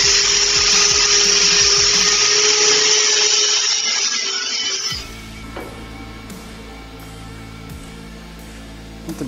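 An angle grinder grinds down a weld on stainless steel tube with a loud, steady high-pitched whine, then cuts off midway, leaving a quieter room with faint clunks.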